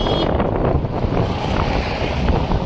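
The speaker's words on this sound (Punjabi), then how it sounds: "ਇੰਨੀ ਠੰਡੀ ਹਵਾ ਚੱਲਦੀ ਪਈ" Cold wind gusting across the high mountain Zojila Pass, a steady broadband rush buffeting the microphone throughout, loud and close with no voices.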